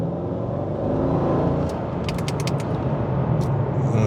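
A Mercedes-Benz E55 AMG engine hums steadily, rising slightly as the throttle is lightly blipped, a low continuous rumble with a few faint ticks and clicks around it.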